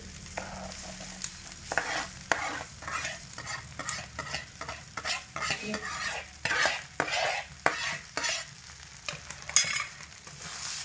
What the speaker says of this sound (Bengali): ডাল দিয়েও চাল আর ডাল একসঙ্গে ভালো করে দু মিনিট মতো কষাবো